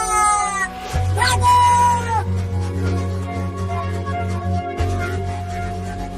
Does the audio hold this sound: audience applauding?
no